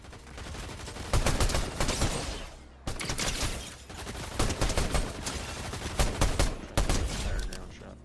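Rapid gunfire in a video game, dense bursts of automatic shots crackling almost continuously with brief gaps, loud and close, with a voice speaking faintly in places.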